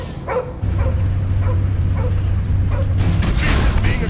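Barking from Cosmo, the dog in the Guardians of the Galaxy video game, heard as a few short yips over a steady low mechanical drone, with creaks and game effects building toward the end.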